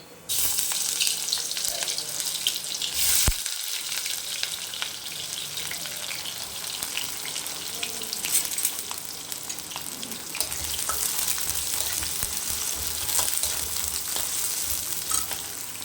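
Onion and okra sizzle and fry in hot oil in a kadai, a steady close crackle that runs through the whole stretch with a brief clatter partway in; no talking over it.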